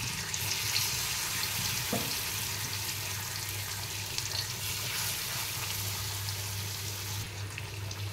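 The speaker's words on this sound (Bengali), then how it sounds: "তেলটা গরম হয়ে গেছে। এবার আমি ম্যারিনেট করা মাছগুলো দিয়ে দেব।" Marinated fish frying in hot oil gives a continuous, even sizzling hiss that stays fairly close and steady throughout, with a low hum underneath and no speech.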